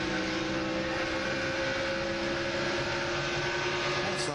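A NASCAR race car with an engine problem drones loudly and continuously, a steady buzzing mechanical roar heard at broadcast distance with no talking.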